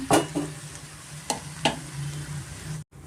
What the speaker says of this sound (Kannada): ಮೀಡಿಯಮ್ ಫ್ಲೇಮಲ್ಲಿ ನಾವೊಂದು ಎರಡು ನಿಮಿಷ ಸೊಪ್ಪು ಚೆನ್ನಾಗಿ ಎಣ್ಣೆಯಲ್ಲಿ ಫ್ರೈ ಆಗಬೇಕಾಗುತ್ತೆ